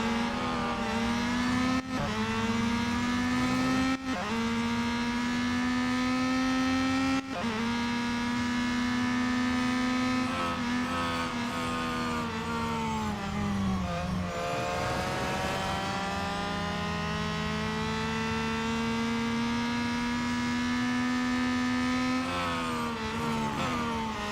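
Race car engine in the mobile racing game Real Racing 3, a loud, continuous droning whine held at high revs, rising and falling with several brief dips at gear changes, with no talking.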